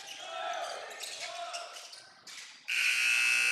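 Buzzer sounding at the end of a quarter in a high school men's basketball game, a loud sustained electronic blare kicking in sharply after crowd noise and a brief voice.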